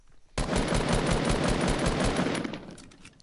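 A single sustained burst of rapid automatic gunfire in a shooter video game starts abruptly and rattles loudly for about two seconds before tapering off.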